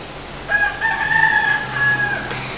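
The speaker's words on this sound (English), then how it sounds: "That's the fucking rooster. It wakes me up all the time." A rooster crows loudly and close by, one drawn-out cock-a-doodle-doo in several stepped phrases lasting about two seconds, in a quiet outdoor setting in Mexico.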